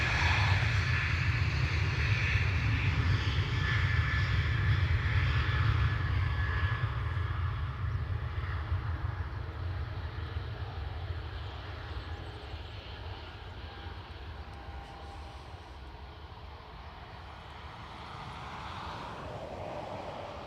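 An Airbus A321neo airliner at Dublin Airport gives a steady, loud engine roar that slowly fades over about twenty seconds, heard alone.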